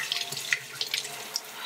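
Water runs from a bathroom sink tap, a steady splashing flow with small irregular spatters, close and fairly quiet, with no voices.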